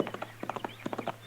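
Horse hooves clip-clop on hard ground in a quick, uneven rhythm as a rider comes on hard, the beats fairly close and clear with no talk over them.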